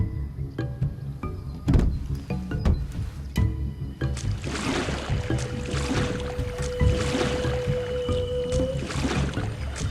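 Canoe paddling in the video game Assassin's Creed III Liberation: steady splashing and water strokes with a boat creak, joined midway by a sustained tonal hum, with no talking.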